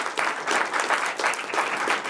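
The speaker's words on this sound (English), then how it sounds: "Please, a round of applause for your time." A small audience at a mentalism performance breaks into applause, a continuous wash of many overlapping claps that swells and dips in brief waves, moderately loud and near, with no voices on top.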